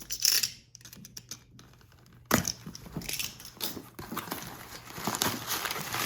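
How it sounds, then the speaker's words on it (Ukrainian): A cardboard parcel box from America is opened by hand, with crinkling, scraping and crunching of packaging in close, irregular bursts, including one sharp rip partway through; no talking. "Так, почнемо з цієї коробочки. Так, і зараз ми її відкриємо."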